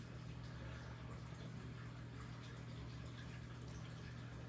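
Steady broadband rush of water circulating in a reef aquarium tank, continuous and even with no pauses, under a constant low hum from pumps and equipment.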